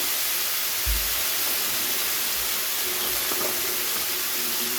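Onions and tomatoes fry with turmeric for a fish-head chhyachra: a steady, even sizzling hiss runs throughout, with a few soft low thuds near the start.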